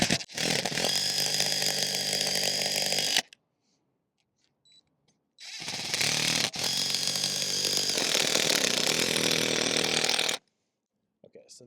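A power driver tightens Starlink pivot mount screws into a roof, two loud sustained bursts of buzzing motor separated by a quiet pause, with a short gap after the second run.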